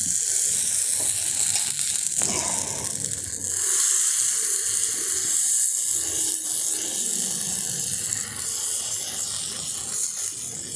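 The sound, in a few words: batter poured into a hot pan, sizzling (lau chok pitha)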